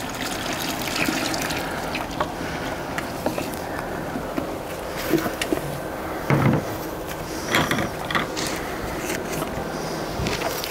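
A homemade JADAM sulfur mixture is stirred in a container, with sloshing liquid and scattered knocks against the container's sides, heard close throughout.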